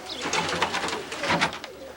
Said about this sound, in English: we're following into the breeding loft here of Richard Jaconette.